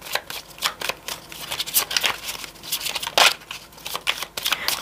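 Tarot cards shuffle and slap down in quick crisp bursts of riffling and flicking, close up and alone, with no talk over them.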